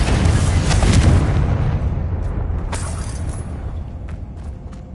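A Confringo blasting spell explodes in the Hogwarts Legacy video game, a loud booming blast with deep rumbling that fades out, followed by a few sharp crackling pops.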